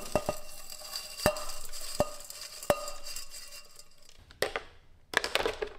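Homemade sausage meat being stirred and mixed with cooled pork fat in a bowl, with a few sharp utensil knocks against the bowl at irregular intervals over a low, steady mixing scrape, close and fairly quiet, no talking.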